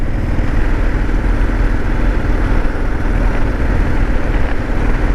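A motorcycle engine drones steadily at speed, a continuous low rumble mixed with wind noise, loud and unbroken throughout.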